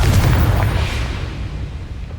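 A Confringo spell explosion in Hogwarts Legacy, a single heavy low boom that hits hard at the start and then rumbles and fades over a couple of seconds.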